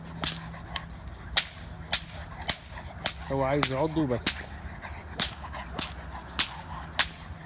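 Sharp whip cracks snap repeatedly beside a Rottweiler in bite training with a decoy, roughly one to two per second, while someone talks briefly in the middle.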